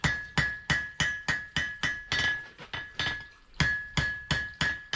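Metal hammering at Herberton Historic Village in Queensland, Australia: about ten sharp, evenly paced strikes close by, each with a bright ringing clang that briefly dies away.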